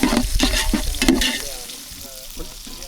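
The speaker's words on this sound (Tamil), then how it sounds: "போட்டு நல்லா கிட்டிக்கிட்டே இருக்கணும். அந்த பச்சை மிளகா வதங்குற வரைக்கும்." Green chillies and mint sauté in a pan for Chettinad ghee rice, with a few loud stirring scrapes early on over a sizzle that fades and thins toward the end.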